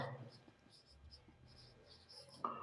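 A pen writes an answer on paper for a chemistry exam question: faint, close scratching strokes come in short bursts, with a louder rustle near the end.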